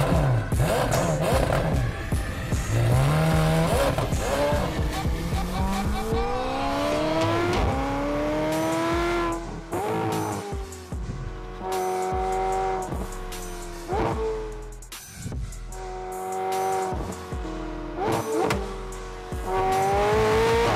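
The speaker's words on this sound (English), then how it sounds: "Audi R8 sharing the DNA of a Lamborghini Huracan, the pure throatiness of that engine, adding the exhaust changes that" Audi R8 V10 with an aftermarket twin-turbo Ryft exhaust revving hard, rising and falling throaty engine pitch with sharp shifts, loud and close, with tire squeal mixed in and no speech.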